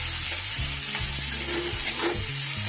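Eggs being stirred with salt and Kashmiri chili powder in a pan, a steady sizzle with a few scraping strokes of a spatula and a constant low hum underneath.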